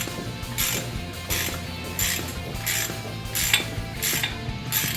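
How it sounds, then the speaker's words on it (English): A ratchet loosens a bolt on the power steering pump of a small-block Chevy engine: crisp, close clicking bursts repeat at a steady pace over a low continuous hum. "Ratchet."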